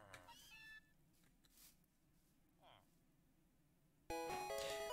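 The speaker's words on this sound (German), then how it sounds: "Ich versuche mal kurz, dieses Mauzi zu fangen." Cry of Meowth, the cat Pokémon, in Minecraft with the Pokecube mod: a short, pitched meow near the start, then quiet game ambience, ending in a louder burst of synthetic game tones.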